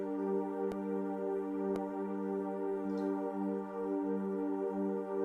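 Analog Waves synth pad in Logic Pro holding a steady sustained chord, a smooth continuous drone at moderate level, interrupted only by two faint clicks.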